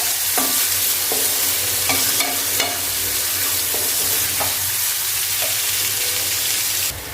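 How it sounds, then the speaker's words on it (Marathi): Onion sautéing with cumin in a pan for egg biryani: a steady loud sizzle runs throughout, with a scraping spatula stirring now and then, close by and with no talking. "आता आपण आपल्या ह्याच्यात कांदा घालूया कांदा आपल्याला छान गुलाबी रंगावरती व्यवस्थित परतून घ्यायचा आहे"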